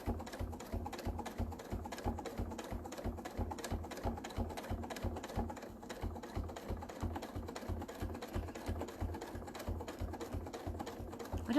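A sewing machine stitches free motion embroidery with Wonderfil thread, a steady, fast, rhythmic clatter of the needle running continuously at close range with no talking.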